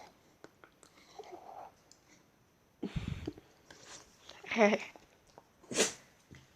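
A person sneezes indoors during a home vlog, preceded by soft rustles, sniffs and breathy noises, with a sharp close burst near the end and a brief bit of quiet voice.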